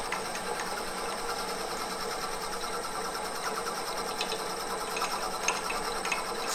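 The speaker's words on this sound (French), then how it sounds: "Ce qui fait dévier la mèche, en fait, c'est le frottement du copeau sur le trou." A drill bit boring into a wood and metal pepper mill makes a steady, continuous mechanical whirring hum with faint ticking and scraping through it, fairly close and sounding on its own with no talk.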